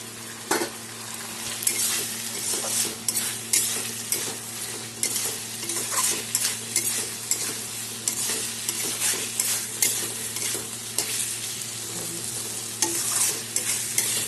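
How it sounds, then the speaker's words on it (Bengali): Pointed gourd, rice and spices stir-frying in a pan for a Bengali dish, a continuous close sizzle broken by repeated scraping spoon strokes, with no talk. "এখন আমি চাল পটল মশলা সব একসাথে আমি এখন কষিয়ে নিচ্ছি"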